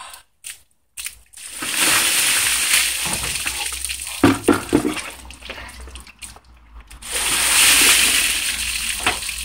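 A bucket of ice water gushes out loudly, with clattering and crunching bursts of ice between quieter pauses, then another heavy wash of water near the end.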